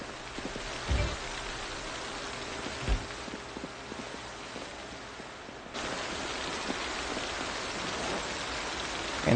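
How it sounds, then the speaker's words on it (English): Steady rain falling in the Project Zomboid video game, a continuous hiss of drops that grows louder partway through, with a few soft thumps underneath and no talking. "The rain is getting louder."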